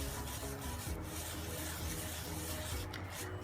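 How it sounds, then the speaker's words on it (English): Gilding flakes being lightly scrubbed with a scrubber, a soft continuous rubbing and brushing texture at low level, close and steady with no talk. "take this scrubber with a very light hand, without adding any pressure at all. I'll just start scrubbing it."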